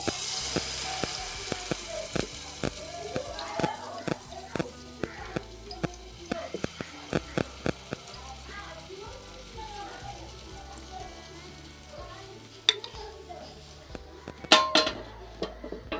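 Besan filling frying in hot oil in a thick-bottomed pan, a steady close sizzle with scattered sharp crackles and light clinks of a utensil against the pan throughout.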